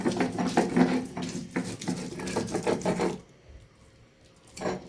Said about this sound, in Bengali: পেঁয়াজ, রসুন, কাঁচা লঙ্কা যেগুলো ভেজেছি সামান্য ইয়ে দিয়ে, তেল দিয়ে, সব আমি একসঙ্গে বেটে নেব